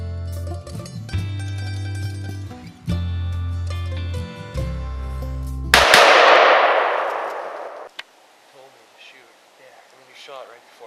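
A single loud gunshot rings out close by during a hunt in the Maine woods, a sharp blast that decays over a couple of seconds after music, leaving quiet outdoor ambience.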